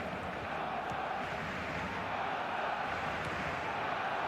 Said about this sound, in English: As the crowd settles down slightly here